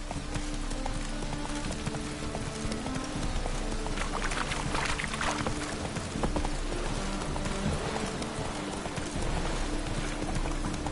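Roach, the horse in The Witcher 3, gallops with a steady, rapid clip-clop of hoofbeats, loud and close, over a continuous background of game ambience throughout.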